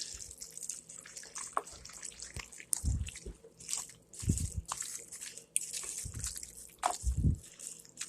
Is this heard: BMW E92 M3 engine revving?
no